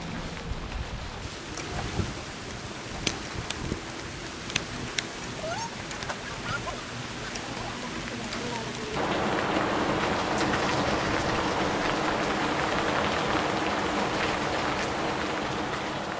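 Heavy rain dumping down outdoors during a catfishing trip, a steady broadband hiss that thickens and grows louder about halfway through, with scattered sharp drops and spatters in the first part.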